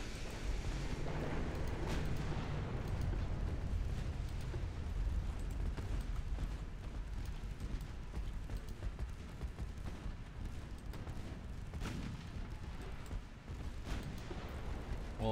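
Naval gunfire from a battleship duel in Ultimate Admiral Dreadnoughts, sustained heavy booming and rumbling blasts at long range, dense and continuous with no talk.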